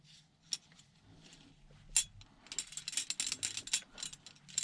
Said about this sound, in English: spring mechanism for the printer carriage